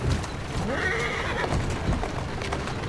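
A horse in the video game Assassin's Creed Syndicate whinnies in a long rising-and-falling neigh, close and clear, with faint hoof clatter and ambient noise underneath.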